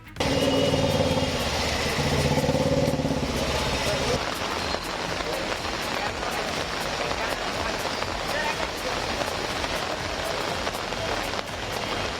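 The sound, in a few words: heavy rain pouring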